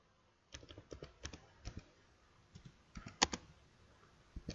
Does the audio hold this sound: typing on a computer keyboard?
yes